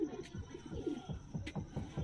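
Soft, repeated cooing from a Saharanpuri pigeon indoors at night, low throaty coos pulsing steadily and close by, with faint background hiss.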